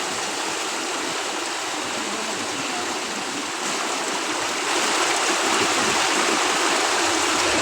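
An e-bike pushing through deep flood water, a loud continuous rushing and churning wash that fills the whole clip and swells slightly louder toward the end, with no voices.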